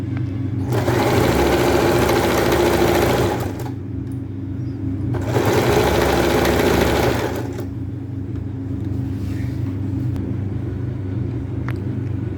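A sewing machine stitches a folded seam on a long suit made from an old saree, running loudly in two sustained bursts of about three seconds each over a steady low motor hum.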